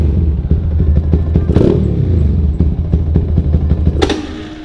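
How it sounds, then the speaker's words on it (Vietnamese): A Yamaha Exciter motorcycle engine with a refitted stock exhaust runs loud and close, a rough idle with clattering pulses and two sharp throttle blips. "Tí nữa móc xong rồi mình sẽ nổ máy cho anh em nghe luôn."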